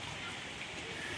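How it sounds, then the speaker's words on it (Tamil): Rain begins falling during a cyclone in Chennai, a steady, even hiss of drops hitting surfaces at moderate distance that holds constant through the brief moment. "மழை ஸ்டார்ட் ஆகிடுச்சு, ஜாஸ்தி போயிடுது"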